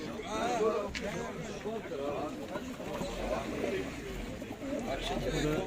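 Pigeons and other birds coo and call amid a busy crowd at the Edirnekapı bird market in Istanbul, with a steady murmur of voices and people talking nearby throughout.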